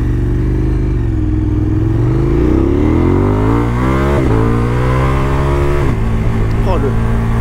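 KTM 1290 Adventure S motorcycle accelerating hard, engine note climbing through the revs with quick, clean upshifts from the quickshifter, loud and close under steady wind noise, with a voice speaking briefly.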